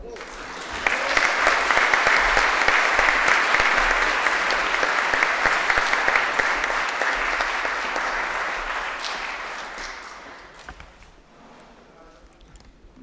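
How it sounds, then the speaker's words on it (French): An audience applauding a mayor after a ceremony honouring her with the Légion d'honneur insignia. The clapping rises quickly, stays loud and thick with a few emphatic claps, then gradually thins and fades out near the end. "On peut en plus l'applaudir et la complimenter"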